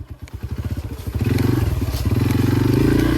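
A Yamaha dirt bike on a trail engine revving, first in choppy bursts then settling into a loud, steady near drone with rough clatter over the top.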